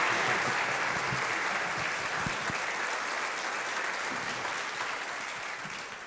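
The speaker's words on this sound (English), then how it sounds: "Let's give Mr. June a hand clap." Steady, dense audience applause at a talk event, loud and sustained throughout before tapering slightly toward the end, with no voices over it.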